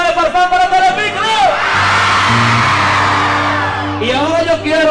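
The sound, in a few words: crowd cheering and shouting at a live concert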